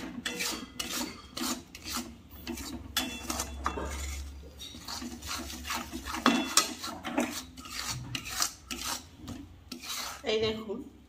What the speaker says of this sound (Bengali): দু চামচ মধু, দিয়ে ভালো করে কষে নেব।